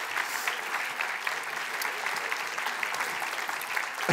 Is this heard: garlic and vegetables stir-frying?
no